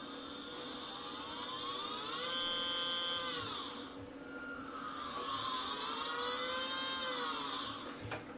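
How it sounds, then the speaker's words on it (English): A small electric motor from a 1/14 scale Tamiya RC Volvo FH12 truck spins in reverse with a high steady whine that rises, cuts out briefly, then winds up again, close and alone. "I've just left a bit of plastic on the end of the motor so you can see the spindle running"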